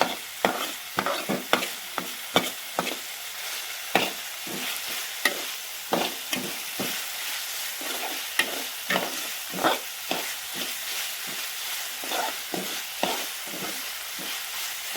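Spices are stirred and fried in a pan for dhaba-style vagharelo rotlo. A steady sizzle runs throughout under repeated scrapes and knocks of the spoon, close and fairly quiet, with no talking.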